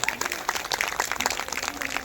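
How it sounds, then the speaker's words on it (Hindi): An audience at a Shrimad Bhagwat Katha religious discourse claps vigorously, a lively and fairly close burst of sustained hand-clapping with crisp individual claps standing out. "इनके लिए भी जोरदार ताली बजा दो"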